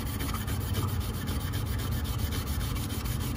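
Copper metal being scrubbed clean after pickling, a continuous close rapid rubbing and scraping with a steady back-and-forth rhythm.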